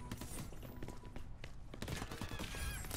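Enemy gunfire in the video game Crackdown 3, a quick clatter of automatic shots and thuds over a few seconds with a faint voice underneath.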